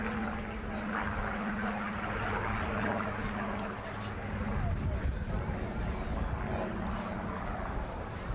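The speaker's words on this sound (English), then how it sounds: "we have got a very special treat indeed in the form of a Rolls-Royce Mark 19 Spitfire" A Rolls-Royce Mark 19 Spitfire flies at the Wales Airshow, its engine giving a steady, broad roar with a low hum beneath that swells midway, fairly loud and distant-sounding, with a commentator speaking over it.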